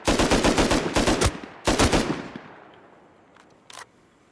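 An automatic turret in the survival game Rust fires several rapid bursts up close, then falls silent as echoes fade, followed by one short faint burst near the end.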